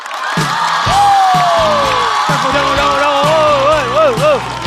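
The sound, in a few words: audience applause welcoming the stand-up comedian on stage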